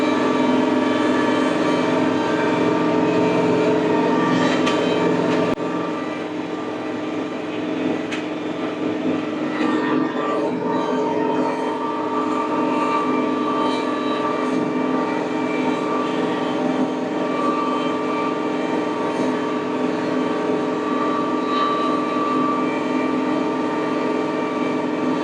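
Tractor on cruise control pulling an IronCraft 2510 flexwing rotary cutter through a field, a loud, steady engine and blade drone with layered tonal whine, slightly easing after a few seconds, no voices.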